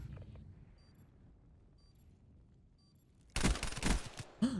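Burst of automatic gunfire in Black Ops 3 erupting suddenly after near silence, a loud rapid volley followed by another short spurt of shots.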